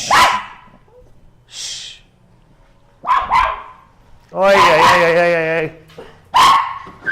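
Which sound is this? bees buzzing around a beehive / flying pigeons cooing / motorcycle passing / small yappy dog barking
small yappy dog barking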